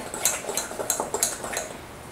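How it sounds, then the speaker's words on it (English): A utensil stirs banana chocolate chip muffin batter in a bowl, with about five light, evenly spaced clinks and scrapes against the side, close and fairly quiet. "as you add each one, you can just kind of give it a stir"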